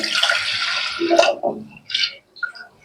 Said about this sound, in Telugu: ఇప్పుడు ఇందులోకి వాటర్ వేసుకోవాలి